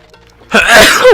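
A single sharp, loud sneeze blamed on hay fever, bursting out right after a brief quiet stretch with faint background sound.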